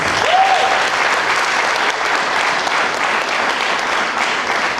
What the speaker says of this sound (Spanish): Le pueden dar un aplauso al Señor.